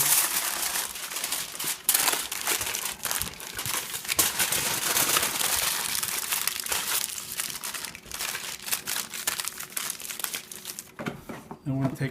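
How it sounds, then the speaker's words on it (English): Heavy aluminium foil crinkles and crackles continuously as a smoked prime rib roast is wrapped, close and steady with rustling handling throughout. "we're going to wrap it in heavy foil"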